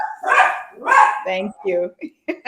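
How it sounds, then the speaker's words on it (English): A pet dog at home barks in a few sharp, close bursts followed by shorter yips, overlapping with a person speaking briefly. "That was my dog going off."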